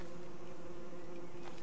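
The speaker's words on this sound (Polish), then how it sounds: "i od razu te pszczoły, osy na ciebie wylatują" Steady insect buzzing of aggressive bees and wasps swarming from red hives in the survival game Don't Starve Together, a continuous faint drone without speech.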